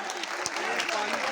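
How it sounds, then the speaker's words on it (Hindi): A brief burst of dense clapping from a seated audience at a team gathering, loud and continuous over about a second, with voices mixed faintly underneath. "मैं चाहूंगा अपने लिए एक जोरदार तालियां बजाइएगा"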